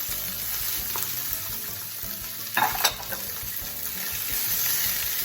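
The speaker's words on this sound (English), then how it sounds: "my oil is hot, so I'm gonna go ahead and add my peppers" Peppers and onion hitting hot oil in a skillet, a steady hiss of frying with a brief louder sizzle burst midway, close and continuous without talk.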